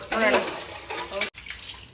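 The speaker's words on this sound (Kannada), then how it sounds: "ಮೂರು ಸಲ ತೊಳೆದಿದ್ದೀನಿ ಮಣ್ಣು ಬರ್ತಾನೆ ಐತಲ್ಲ ಇನ್ನೊಂದ್ಸಲ ತೊಳೆದ್ಬಿಡು" Leafy greens such as amaranth stems, dill and fenugreek leaves being washed in a basin of water, with splashing and sloshing that continues for most of the moment, then a short break, and a voice speaking over it.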